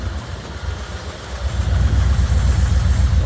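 A 1977 Ford F250 engine with its EEC system deleted idles steadily and loudly up close, a deep rumbling low throb that grows slightly louder partway through, with no voices.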